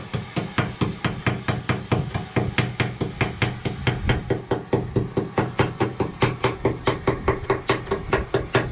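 A chipping hammer knocks on welded steel on a yacht hull in a boatyard, a steady, rapid series of sharp metallic taps close up, evenly paced throughout.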